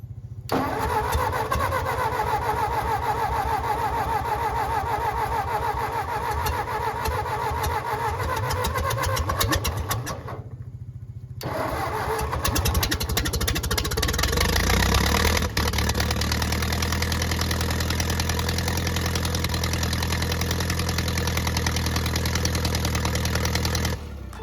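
A small engine without a muffler fires up, running raw and loud, briefly cutting out, then catching again and settling into a harsh, steady idle close by.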